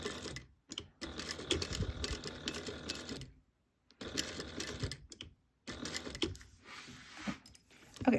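Bursts of rapid needle stitching from a sewing machine working bag fabric, close and fairly quiet, broken by short pauses and a longer stop midway, then resuming in choppier runs.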